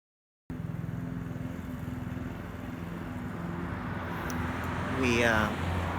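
A power saw drones steadily as it cuts through a metal Dana 300 transfer case adapter plate, with the pitch rising into a brief whine near the end.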